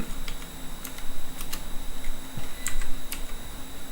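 Computer keyboard typing while searching for a backing track: irregular crisp key taps, close and fairly clear over a faint steady hum, with no talk.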